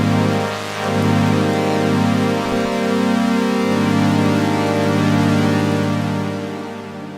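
Pulse width modulation on a Yamaha CS70M analog synthesizer, a rich, lush sustained chord-like tone with gently shifting, chorus-like movement that swells and fades slightly at the end.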